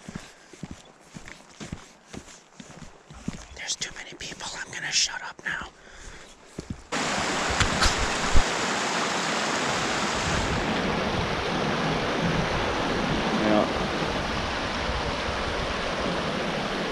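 Boulder Creek on the Brazeau Loop backcountry trail, its steady broadband rush of flowing water swelling in loud and close after several seconds of quieter footsteps and rustling, then continuing unbroken.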